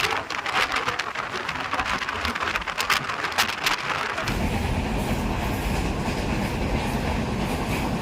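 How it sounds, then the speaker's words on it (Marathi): A crowded passenger train to Mumbai rumbles along the rails, rattling and clattering, with the low roar growing louder and steadier partway through. "आता गर्दी कशी असते ट्रेनमधली ती पण आरोईला अनुभवता येणार आहे"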